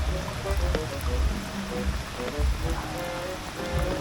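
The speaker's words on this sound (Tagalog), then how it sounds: "kasi lumakas yung ulan" Steady rain pours down outdoors, a dense broadband patter with low rumbling gusts, continuous and fairly loud throughout.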